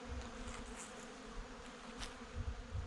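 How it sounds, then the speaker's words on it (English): Bees buzz around outdoors on a warm late-November day. The hum is faint and continuous, with individual insects droning past near and far. "These bees are loving everything about this weather here."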